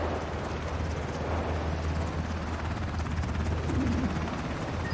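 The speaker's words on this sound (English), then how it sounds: "this helicopter will only stay for a short period of time." An in-game helicopter in the video game Ring of Elysium whirs with a steady, dense rotor and engine drone that fills the scene at constant loudness, with no speech.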